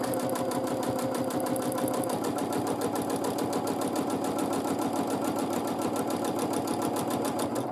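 Steady rapid stitching of a sewing machine doing free motion quilting in a wavy line across fabric, close and continuous throughout with an even mechanical rhythm and no talk.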